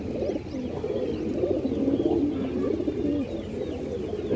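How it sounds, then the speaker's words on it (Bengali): A group of pigeons, including red Muslodom and Kaldom breeds, coos continuously at close range, layered throaty calls overlapping with no pauses. "সঙ্গে একটা লাল মুসলদম মাদি কবুতর আছে"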